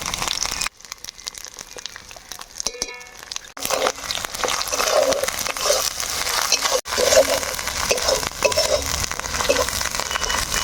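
Ground spices, green chilli, salt and turmeric fry in a pan for a taro stalk dish, giving a steady loud sizzle and crackle with stirring noises; a brief quiet gap comes early on.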